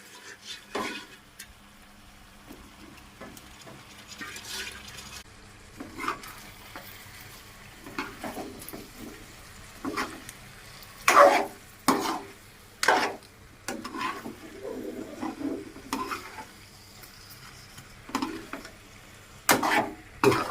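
Tuna fish head curry stirred in a pan, with intermittent scraping and clacking strokes of the spoon over a soft, steady sizzle and no talking.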